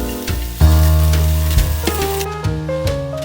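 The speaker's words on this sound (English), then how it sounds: "On low-medium heat, I add the aromatics like ginger, the pale parts of the green onions," Ginger, garlic and the pale parts of green onions hitting oil over low-medium heat, a close steady sizzle with a few clinks and scrapes of stirring on top, alone without talk.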